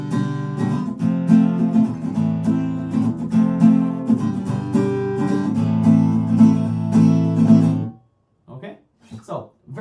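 Steady rhythmic guitar strumming moves through the chord progression of a song for about eight seconds, then stops, followed by a few brief soft sounds.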